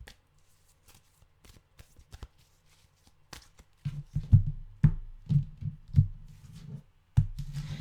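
Tarot cards are shuffled close by, quiet at first with sparse ticks, then louder riffling bursts of flicking card edges in quick repeated rounds, with no voice.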